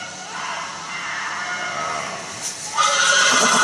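A horse in the Telltale Game of Thrones video game neighs, a loud, close, drawn-out whinny that swells and grows stronger toward the end.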